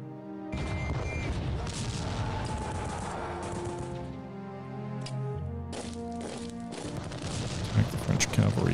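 Troops in Strategic Command: World War I assault French artillery: rattling volleys of rifle and machine-gun fire with booming blasts, dense and continuous, a gap midway, then more cracks and bursts under a voice.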